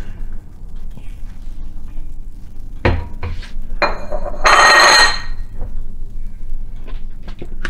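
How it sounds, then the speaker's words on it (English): Celery, carrots and potatoes dumped into a crock pot of beef stew, clattering against the ceramic pot in a few sharp knocks, then a louder scraping, clinking stir before quieter taps. "I'm just gonna dump in the vegetables and stir it around a bit."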